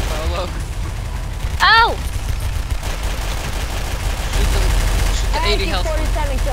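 Rapid gunfire in the video game Garry's Mod, a Flood round, rattling steadily through the clip under shouting players, with a brief louder burst midway and the shooting swelling again near the end.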